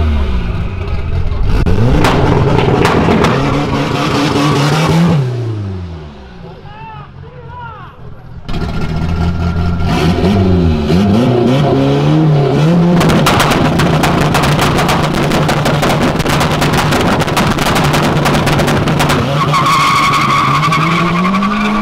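Ford Maverick engine revving and accelerating hard at a car event, loud and close, with tire skidding and crowd voices mixed in, briefly dropping off midway before roaring back steadily.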